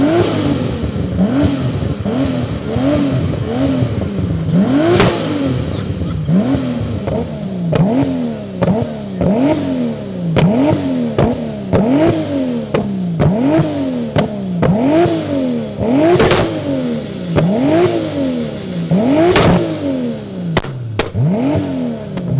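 2JZ-powered BMW E92 drift car being tuned to spit exhaust flames, revved repeatedly in a regular rhythm of rising and falling engine blips, with sharp crackles and pops from the exhaust between revs, loud and close.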